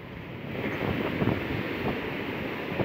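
Sea waves churning along the Pantura coast during a tidal flood, a steady close rush of surf mixed with buffeting wind noise.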